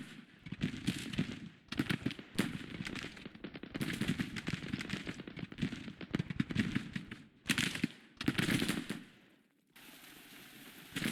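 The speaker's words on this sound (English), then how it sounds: "We're still taking fire, but we are sending some of their bigger brigades backwards." Battle gunfire in the Grand Tactician Civil War strategy game, dense crackling volleys of musket fire rolling almost continuously, rising and falling in intensity with a few brief lulls.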